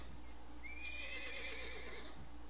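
A horse in the zoo game Wildlife Park 2 neighs once, a long wavering whinny lasting over a second over a steady low hum, with faint hoof clopping.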